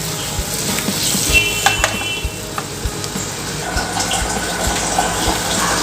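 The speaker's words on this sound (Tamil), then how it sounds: "இந்த அளவுக்கு முட்டையை நல்லா ஃப்ரை பண்ணால் போதுங்க" Boiled eggs frying in masala gravy for a Tamil egg curry, producing a close, bubbly sizzle with a watery hiss and occasional stirring clacks in the pan.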